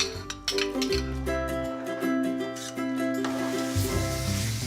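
Cooked fava beans and nopal cactus mixed together in a pan, a soft sizzle under clinking and scraping utensils against the cookware, with a sustained tonal hum running underneath, close by and without speech.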